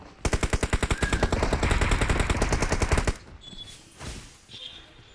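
Automatic weapon fire in the mobile shooter BGMI on the Livik map, a rapid loud burst of evenly spaced shots lasting about three seconds, followed by quieter scattered game effects.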